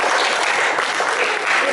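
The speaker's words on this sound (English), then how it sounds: "a round of applause to this lady" An audience applauds a woman singled out for recognition during a historical talk on Operation Pedro Pan at St Isidore, producing a dense, steady wash of clapping that fills the short moment at close range.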